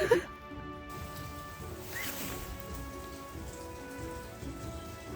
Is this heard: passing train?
no